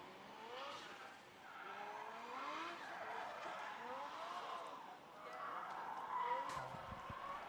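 Drift cars slide around the track at Oulton Park, heard from a distance as faint tyre squeal and engine whine rising and falling in sweeping arcs, with a soft background hum throughout.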